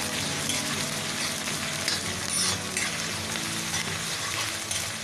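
Onion, ginger and garlic frying in an iron wok, producing a loud, continuous sizzle with occasional stirring scrapes and no talk.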